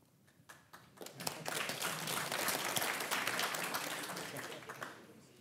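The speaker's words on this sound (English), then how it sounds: "It's great to see people clapping and getting involved in that collective intelligence." An audience at a keynote panel on brains, minds and machines breaks into applause that builds after a second, holds as a dense, sustained clatter of many hands, then tapers off.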